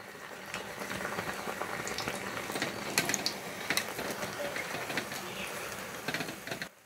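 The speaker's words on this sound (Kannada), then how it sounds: "ಸೊ ಡೀಪ್ ಫ್ರೈ ಮಾಡಬೇಕು ಸ್ನೇಹಿತರೆ, ನಿಮ್ಮ ಮೀಡಿಯಮ್ ಫ್ಲೇಮಿಂದ ಡೀಪ್ ಫ್ರೈ ಮಾಡಿದರೆ ತುಂಬ ಚೆನ್ನಾಗಿ ಬರುತ್ತೆ" Mirchi bajji, chilli fritters, deep frying in oil over a medium flame, a soft steady bubbling hiss with occasional sharper crackles and pops, fairly quiet and without talk.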